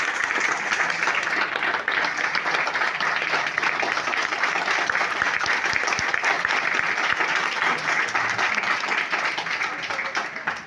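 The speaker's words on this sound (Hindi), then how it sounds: "आप लोगों के लिए एक जोरदार ताली का मांग करना चाहता" Loud, sustained applause from an audience at a training program, dense and continuous clapping that holds at a steady level for about ten seconds before tapering off at the very end.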